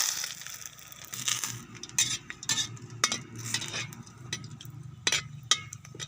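Two bay leaves drop into hot mustard oil in a pan, a soft continuous sizzle broken by scraping and clinking as a metal spoon stirs against the pan, close and fairly quiet with no talking.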